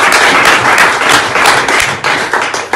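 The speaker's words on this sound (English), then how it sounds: "Round of applause for them, please." Wedding guests at a treehouse celebration in Alnwick applaud, loud close clapping in uneven bursts that swell and fade across the moment.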